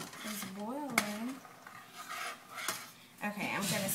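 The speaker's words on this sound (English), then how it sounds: "I'm going to sit here and I'm going to stir this a little while longer" A spoon scraping and clinking against a pot while stirring boiling homemade flax seed gel, with intermittent metallic scrapes and a sharp clink, under occasional voiced sounds in the kitchen.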